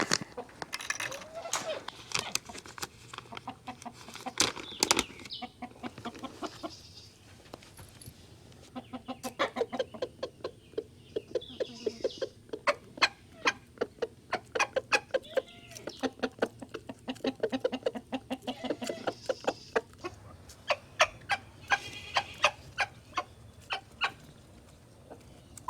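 Chickens clucking excitedly over a bag of GrubTerra feed: many close, rapid overlapping clucks and squawks in busy bursts, with someone talking now and then.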